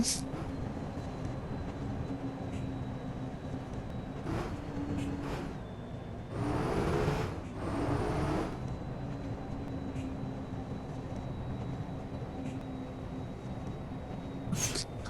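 A bus in a bus simulator video game pulls out through the bus stand gate, its engine droning steadily throughout with a brief louder rumbling surge midway, no talk over it.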